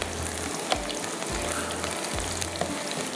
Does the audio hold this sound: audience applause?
no